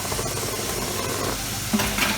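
Chopped celery cooking down in a hot pan for seafood stuffed shells gives a dense, continuous sizzle and hiss, with light stirring scrapes running through it close up.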